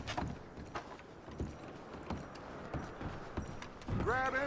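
Horse hooves clip-clopping in a Western game setting, a loose, irregular series of moderately close thuds and clops at low level, with quiet background and a brief mechanical squeak near the end.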